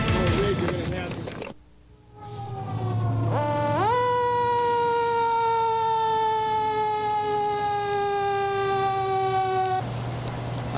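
A fire engine's siren passes close by, a loud steady wail that holds one pitch and then drops as the truck goes past, with traffic rumbling underneath.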